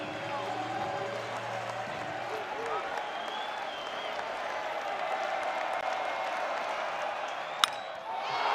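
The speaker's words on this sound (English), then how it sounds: "Largest crowd this season at the Dish, and they're all making noise" A large baseball crowd at the Dish cheers and applauds in a steady broad roar, with a commentator talking over it and a brief sharp crack near the end.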